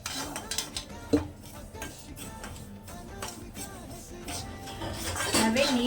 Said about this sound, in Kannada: ರವೆ ಹುರ್ಕೋಬೇಕು ಆರಾಮಾಗಿ